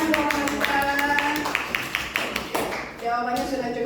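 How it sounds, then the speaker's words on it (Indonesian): A classroom gives a round of applause for a student named Michelle, with brisk claps and taps of moderate loudness mixed with speech and a short burst of voices. "kita kasih tepuk tangan buat Michelle"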